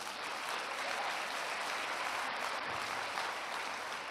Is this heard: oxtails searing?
no